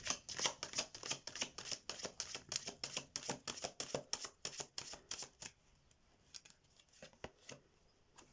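Tarot cards riffled and shuffled in quick rhythmic bursts of crisp papery flicks for about five seconds, then a few sparse, softer taps and slides as cards are drawn.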